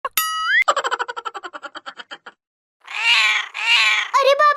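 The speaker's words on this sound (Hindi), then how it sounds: "अरे बाप रे, ये बिल्ली के बच्चे कहाँ से आ गए?" Cartoon kittens meow in a quick run of high, bouncy cries, with a springy boing effect at the start and two louder, drawn-out yowls near the end, all close and clear with no talking over them.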